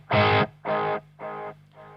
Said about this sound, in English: and now the delay is very prominent because it's in front of the amp.